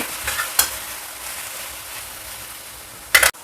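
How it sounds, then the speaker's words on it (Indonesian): Ingredients being stir-fried in a pan for an Indian-style curry, with a soft continuous sizzle and a few brief louder scrapes of stirring near the start and end, no talk. "Nah ini ditumis tuh biar wangi ya."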